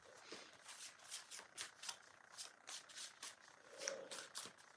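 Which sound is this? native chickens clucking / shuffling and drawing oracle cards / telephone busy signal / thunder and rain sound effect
shuffling and drawing oracle cards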